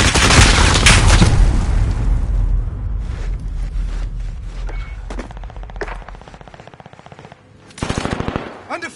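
Heavy gunfire in a shooter video game: a loud blast and dense rapid automatic bursts, then scattered cracking shots and a final sharp volley, with game voices shouting under fire in the mix.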